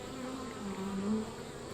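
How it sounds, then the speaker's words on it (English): Honeybees buzzing steadily around an open hive during an inspection, a close, continuous drone that swells slightly midway, with no talking. "if you ever want to get these bees to move, we'll give them a quick blow"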